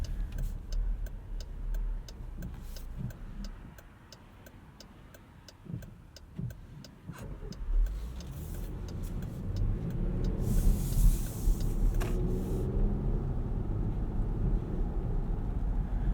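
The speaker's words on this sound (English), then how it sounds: "This is just a smooth, comfortable, quiet SUV." Cabin of a 2018 Dodge Durango GT AWD SUV on the move: a low, steady engine and road rumble with the regular tick of a turn signal early on, then louder tyre and road noise swelling later.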